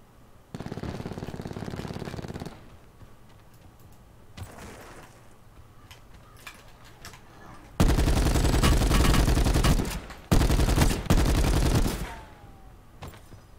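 Bursts of rapid automatic gunfire from the Call of Duty Black Ops 4 Blackout battle royale, loud sustained volleys separated by quieter stretches of game ambience.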